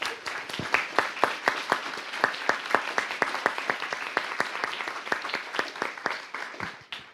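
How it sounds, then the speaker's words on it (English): An audience at the opening of the EGA 2023 conference claps to thank the organisers. Individual hand claps stay sharp and distinct in a fairly quick, uneven rhythm and taper off near the end. "I want to thank and ask you to applaud Alice, Alina, Kel, Kasia, and Ola"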